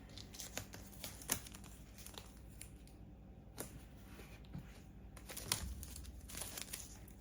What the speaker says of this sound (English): I use painter's tape. That way I can reuse it, and it's pretty good.